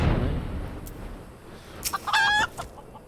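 A chicken clucks in a video game, giving a short series of sharp, fairly close clucks and a brief squawk near the end of the clip, heard over faint background ambience with no speech.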